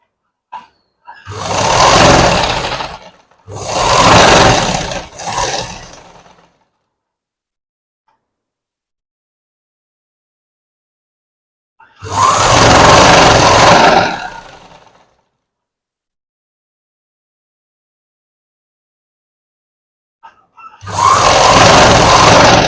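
Sewing machine stitching the folded hem of gathered pants fabric, running in three close bursts, pausing, then two more loud bursts alone with no talking.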